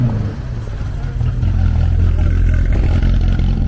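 A 1969 Sunbeam Chamois classic car with a 60-horsepower engine runs at the Niort Classic rally, giving a loud, close, continuous low engine rumble that swells slightly as it revs.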